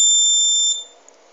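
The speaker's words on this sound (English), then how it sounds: "So the buzzer will be off." An accelerometer-based fall monitoring system's buzzer alarm gives a loud, high, steady electronic tone that cuts off abruptly after under a second, leaving near silence.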